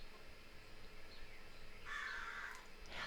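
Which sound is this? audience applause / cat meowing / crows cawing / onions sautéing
crows cawing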